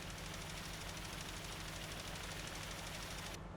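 Tractor engine in the farming game Farming Simulator 19, a steady rumbling drone with a fast knocking pulse, held constant and close throughout.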